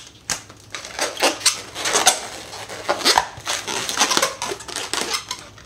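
Red 260 balloons being twisted and rolled for balloon art, producing close, irregular rubbery squeaks, creaks and rustles in quick bursts throughout.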